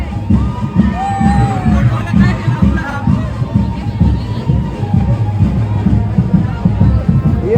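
Festive crowd at a village palkhi procession in Juhu, with continuous cheering, whoops and excited shouting from young people, a dense, loud babble of voices over drumming-like low rhythm throughout.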